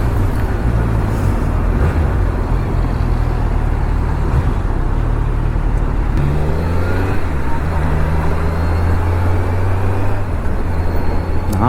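A Kawasaki Z900 motorcycle engine drones loudly and steadily while riding, its pitch climbing and then dropping as gears are shifted up toward fourth partway through, with no talk over it.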